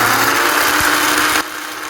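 A mixer grinder grinds coconut with a loud, steady motor whir that holds evenly, then drops to a quieter hum near the end.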